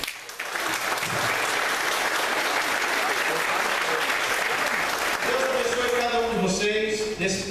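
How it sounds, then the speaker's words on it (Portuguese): A church congregation at a family congress gives a warm round of applause for a hardworking ministry team. The dense, loud clapping runs for about five seconds, then fades as a voice and tonal sounds take over. "a qual peço uma salva de palmas"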